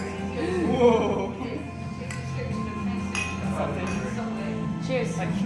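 Glasses clink together in a toast, a couple of bright chinks rising over steady chatter and voices nearby.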